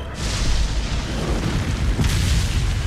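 A sniper rifle shot in Resident Evil 4: one heavy, booming blast right at the start, its roar sustained and rumbling, with a second sharp crack near the end, loud and close.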